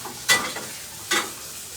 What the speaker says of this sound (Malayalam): നമ്മള് എന്തോരം സവാള വഴറ്റുന്നു ഗ്രേവിക്ക് അത്രയും ടേസ്റ്റ് വരും